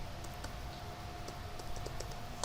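Typing on a computer keyboard while coding a collision function for a snake game, with a series of light, irregular key clicks over a steady background hum.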